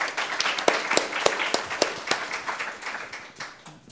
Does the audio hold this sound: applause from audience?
yes